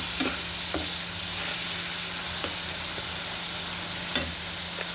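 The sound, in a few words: frying and stirring spices with cumin powder in a pan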